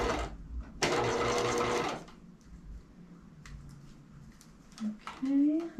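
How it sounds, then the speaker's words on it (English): A domestic sewing machine stitches through layers of snap tape in a rapid mechanical whirr lasting about a second, then stops, followed by quiet handling clicks and a brief squeak. "So you can see I'm stitching about 1/8 of an inch from the edge of the snap tape."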